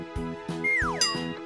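A cartoon doorbell rings in Kral Şakir, a bright ding-like chime with a sliding tone, repeated over a short rhythmic musical backing.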